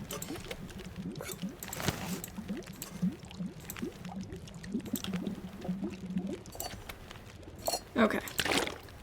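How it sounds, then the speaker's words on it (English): Water boiling in a pot in the video game The Long Dark, heard as a quick run of small bubbling pops and gurgles that dies away toward the end, moderately close and fairly quiet. "I love the sounds of the boiling water."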